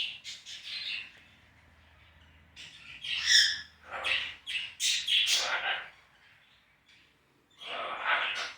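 Several pet parrots squawk and screech in a bird room, loud harsh calls arriving in bursts with short quiet gaps between them, close to the listener.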